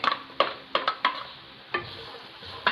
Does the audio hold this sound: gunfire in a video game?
no